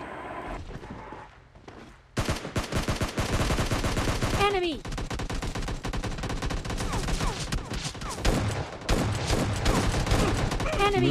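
Dense gunfire from the video game PUBG Lite: rapid automatic bursts and scattered shots run almost continuously, loud and overlapping, with a brief quieter stretch near the start and occasional voices mixed in.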